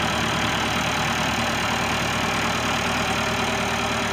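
A 1990 Case 585 tractor's 3.4-liter four-cylinder diesel engine idles loud and close, a steady low rumble with slight knocking that holds evenly throughout with no talking.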